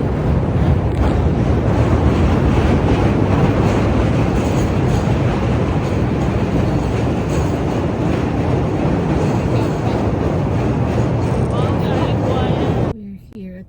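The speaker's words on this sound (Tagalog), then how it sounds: "Dadating ng train." A train rumbling in at a station, a loud steady roar with heavy wind buffeting the microphone that runs nearly the whole time before cutting off abruptly near the end.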